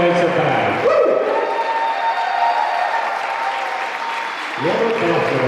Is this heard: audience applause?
yes